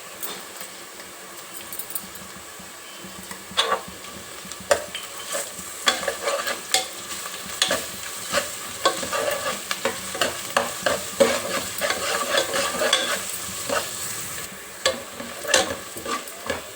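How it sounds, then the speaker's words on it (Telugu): Fresh-pounded ginger garlic paste fries in a pan with dried red chillies for gongura chicken curry, giving a steady sizzle under repeated stirring and scraping, with no talk. "అల్లం వెల్లిపాయ పేస్ట్ కూడా వేగింది"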